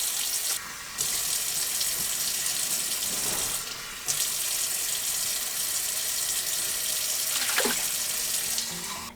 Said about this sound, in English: So first up, we're going to add some water.